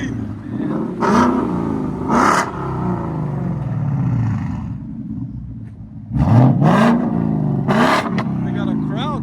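A Ford Mustang GT V8 with an aftermarket exhaust revs loudly and close by, with two sharp blips early on and a stronger rising rev near the end, while people talk over it.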